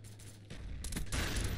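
Gunfire in Call of Duty Black Ops multiplayer: a quiet start, then a dense burst of rapid shots and crackling impacts, fairly loud and without talk.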